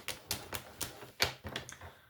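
Paper being creased and folded by hand for a scrapbook Christmas clock, a series of sharp, close crinkling presses and swipes at an uneven rhythm, with no talking.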